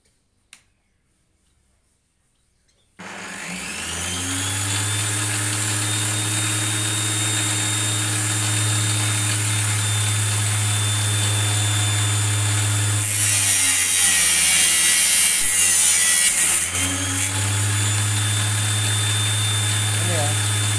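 A table saw spins up after a short silence and runs at a steady loud whine, with a harsher, brighter grinding burst partway through as the blade cuts an iron nail, then settles back to its even hum.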